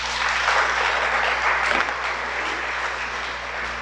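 A congregation applauds during a Sabbath sermon, dense continuous clapping filling the room, slightly fading toward the end.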